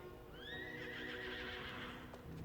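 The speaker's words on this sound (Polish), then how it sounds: "Tu jest mój koń." A horse in the online game Star Stable gives a long, clear whinny, with faint hoof clip-clops underneath, all fairly quiet and with no talking.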